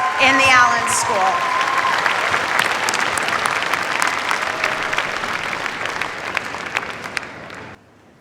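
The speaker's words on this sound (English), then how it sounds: "can we get one final round of applause for these award winners and all of our TAs in the Allen School?" A graduation celebration crowd for computer science award winners and teaching assistants gives a loud, sustained round of applause that fills the hall for about seven seconds, then cuts off abruptly.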